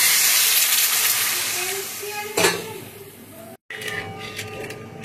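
Water splashes into a hot pan of fried onion, ginger and garlic for an egg curry, raising a hissing sizzle with a sharp burst midway, a brief cut, then a steadier steaming hiss.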